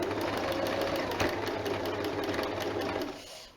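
A sewing machine stitches jersey fabric to join sleeves to the body of a top, giving a fast, even mechanical whir with a rapid needle rhythm. It runs steadily up close and slows near the end.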